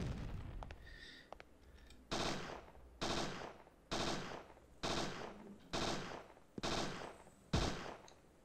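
Seven heavy gunshots from a weapon in Parasite Eve 2, fired at a steady spaced rhythm about a second apart, each a loud sharp crack with a short tail, preceded by faint game sounds and no speech.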